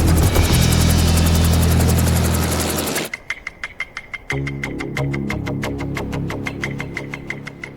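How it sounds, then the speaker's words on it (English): An Airbus A-Star helicopter sets down on a logging pad. A loud, steady rotor roar cuts out abruptly partway through, leaving a rhythmic blade thump and engine whine that carry on at a lower level. "A-Star pilot Chris eases onto the new pad"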